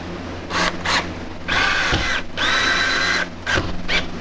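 Several bursts from a power drill driving screws into a drywall ceiling during a bedroom remodel, close and loud, with short whirring pulses first and then two longer sustained runs.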